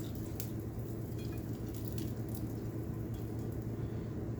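Bacon frying in an omelette pan with peppers and onion, a steady soft sizzle with faint crackles, quiet and continuous.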